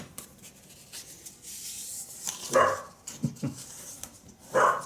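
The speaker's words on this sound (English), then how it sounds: "Plus you've got doggies barking upstairs." Dogs bark upstairs in a house at the postman's arrival, a few muffled yips and barks in short bursts over a quiet room, somewhat distant and irregular.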